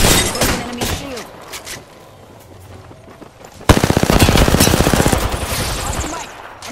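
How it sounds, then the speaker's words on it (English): Heavy gunfire in an Apex Legends battle royale match, with scattered shots first and then a loud, sustained automatic burst close by, its rapid, even rhythm fading slightly toward the end. "The enemies are shooting at me."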